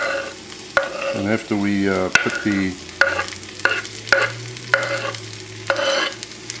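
Garlic and mushrooms sizzle in a frying pan while a utensil stirs and taps against it in repeated scraping strokes, with a short spoken phrase early on over the steady crackle.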